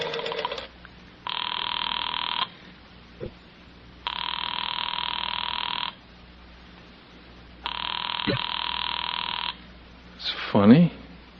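An old telephone bell rings in long, loud bursts separated by pauses, three clear rings in a 1950s–60s radio mystery drama, followed by a brief voice.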